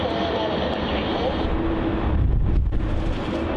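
Wind gusts buffet a handheld microphone at Melbourne Airport, a rough low rumble that swells and thumps harder partway through, over the steady background roar of a jet airliner.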